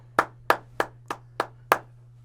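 Six sharp hand claps at a steady, slightly uneven rhythm, close and distinct, each a crisp isolated smack over a faint low hum with no talking.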